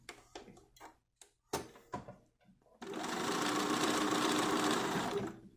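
A few soft clicks and handling noises come first, then a sewing machine whirs steadily for about two and a half seconds while stitching the hem of a pair of jeans, and stops near the end.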